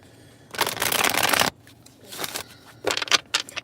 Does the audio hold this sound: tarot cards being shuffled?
yes